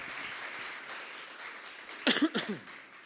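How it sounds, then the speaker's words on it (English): A conference audience claps steadily, moderate and slightly distant, with a cough or throat-clearing near the end. "Warm applause, please."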